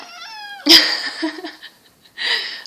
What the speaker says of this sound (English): And I was just disturbed by my cat.